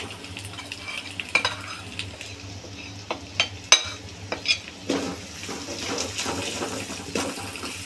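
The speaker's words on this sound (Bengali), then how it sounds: "এগুলো ভালো করে তেলের মধ্যে একটু কষিয়ে নিই" Mustard and green chili paste frying in oil over low heat, a steady soft sizzle with scattered clinks and scrapes of a spoon stirring in the pan, fairly close.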